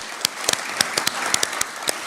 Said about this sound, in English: So I'd like a round of applause,